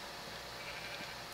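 Sheep bleating in Minecraft, one short drawn-out bleat at moderate loudness against a dense, noisy game background.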